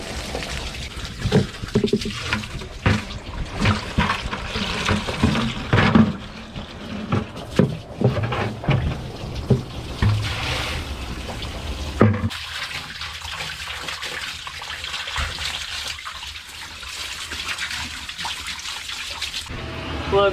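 Water sprays and splashes while rinsing dirt off a long-unwashed Caterpillar skid steer, irregular bursts of spatter and trickling runoff up close, then a calmer steady flow and dribble in the later part.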